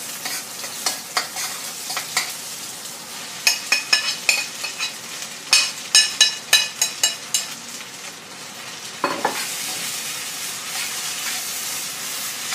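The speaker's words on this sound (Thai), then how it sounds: "พอไข่ได้เป็นตัวแล้วเขาก็จะใส่เส้นลงไปนะคะ" Rice noodles tossed onto set egg in a hot pan, a close steady sizzle with a rapid series of sharp scraping stir strokes in the middle and a final burst of frying.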